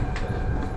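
A Jaipur metro train sits at a station with a steady low rumble and rail hum, brief and continuous with no distinct clacks.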